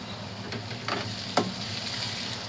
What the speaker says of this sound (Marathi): मिरच्या चांगल्या तळून घ्यायच्या तेलात, याच्यात कांद्यामध्ये.